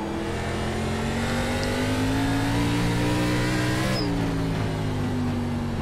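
A race car engine in the iRacing sim during an ARCA Menards Series race at Southern National, a steady loud drone that climbs slightly in pitch, then drops and holds at a gear change, with no talk.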